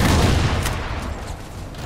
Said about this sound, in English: there's the ever-efficient railgun